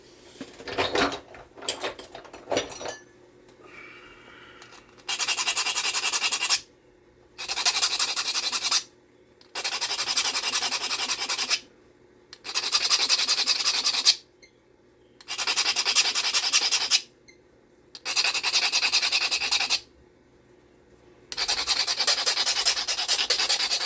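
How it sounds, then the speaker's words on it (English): A blade is drawn over a novaculite sharpening stone in long, steady rasping strokes, about seven near, even passes separated by short pauses, with no talking. "I'm going to sharpen this flicker a little bit."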